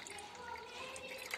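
Water runs into a washing machine during its fabric-whitener rinse cycle, a faint, steady trickling and gushing that continues without a break and is mostly alone.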